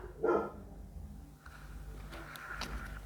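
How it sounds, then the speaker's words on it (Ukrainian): A single sharp dog bark near the start, then quiet room noise with faint distant sounds. "у мене всі собаки починають гавкати"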